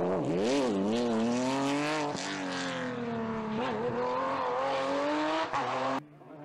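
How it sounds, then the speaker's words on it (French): A Porsche rally car on a closed rally stage, its engine loud and close, rising and falling in pitch through gear changes and revving before cutting off sharply near the end. "Pas facile de mettre la puissance de cette Porsche sur la route."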